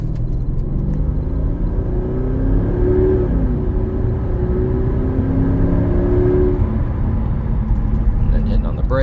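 A 2012 Mercedes-Benz SL 550 drives past, its engine note loud and close, rising and falling in gently sweeping tones over a constant low rumble.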